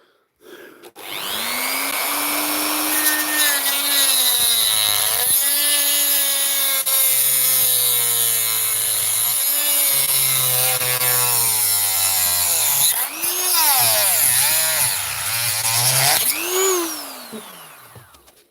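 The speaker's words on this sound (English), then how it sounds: "the remedy comes in the shape of the Dremel." A Dremel rotary tool cuts parts off in a loud, sustained high-pitched whine that dips and rises as it bites into the material and frees up, running for about fifteen seconds before winding down.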